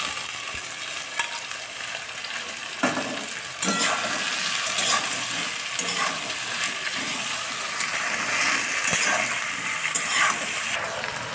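Taro stolons frying with onions in an open pan, a steady loud sizzle with scraping spatula strokes as the mixture is stirred, close up and alone.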